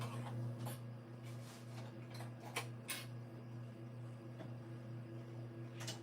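Sewing machine stitching around a fabric flap for a Book Bestie reading pillow, with a steady close motor hum and faint ticking, broken by a few brief clicks and taps.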